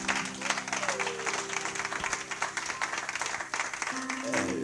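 A church congregation claps and applauds steadily through a French-language service, with bursts of clapping over soft background music and murmuring voices.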